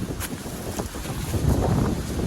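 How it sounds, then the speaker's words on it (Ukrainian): Wind buffets the microphone outdoors during a walk with a husky, a rough, fluttering rush that swells and dips unevenly. "О, вітер який почався."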